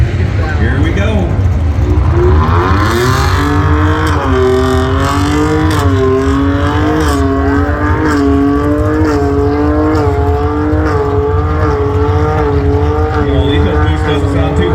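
A V6 twin-turbo race truck accelerates hard on a pole run, its engine note rising steadily through the gears, loud and continuous, with a voice talking over it.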